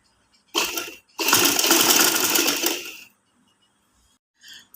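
A sewing machine stitches fabric in two close, loud bursts, a short run then a longer steady whirring rattle of about two seconds, before stopping; a faint click follows near the end.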